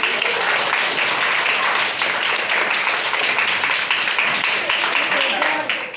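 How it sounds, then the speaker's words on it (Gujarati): Class 6 schoolchildren clapping during a Saturday classroom guessing game, sustained dense applause from a group close by, steady and loud throughout, tapering slightly at the end. "સરસ તાળી પાડો કોઈ"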